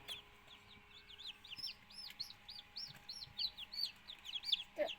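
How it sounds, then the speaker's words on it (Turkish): Many small chicks of village chickens peep in quick, high-pitched chirps, overlapping and continuous, fairly close and soft, with a faint background hum. "Bu normal bizim köy tavuklarımızın civcivlerinden."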